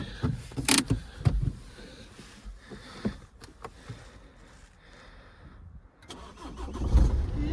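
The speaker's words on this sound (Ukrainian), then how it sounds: "Автомобіль у нас заводиться" A Ford Focus Titanium is started from cold with its push-button ignition, a brief starter crank catching into a steady engine note near the microphone, with clicks and rustles before it.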